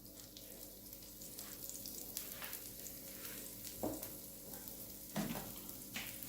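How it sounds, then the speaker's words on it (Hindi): Aloo lachha paratha roasting in a little oil on a pan over very low heat, giving a faint, steady sizzle with a few soft scrapes and bumps of turning, no voices. "तो इस पे थोड़ा सा ऑयल डालते हैं, बिल्कुल स्लो हीट पे रोस्ट कर रही हूँ।"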